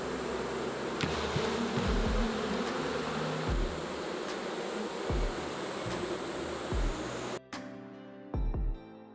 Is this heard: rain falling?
no